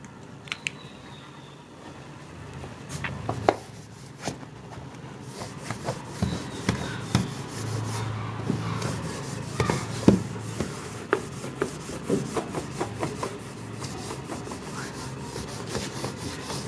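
A board is rubbed clean during a maths lecture, giving soft scraping and wiping strokes with scattered light taps and knocks that grow busier, all at close range under a steady room hiss and with no talking.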